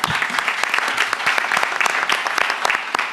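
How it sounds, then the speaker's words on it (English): A room full of people at a county Board of Commissioners meeting clapping steadily, a dense patter of hands sustained throughout with no voices standing out. "maybe we can give her some applause"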